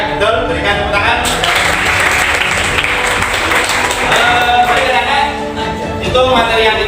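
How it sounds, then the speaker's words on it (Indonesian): A class of students claps during an Islamic religious education lesson, a loud continuous patter of hands lasting several seconds, mixed with voices talking and calling out over it. "Berikan tepuk tangan."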